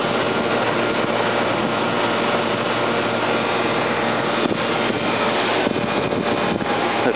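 An old Carrier BDP air conditioning unit runs with a steady, broadband whooshing hum and fan noise, continuous and close, with no talk over it.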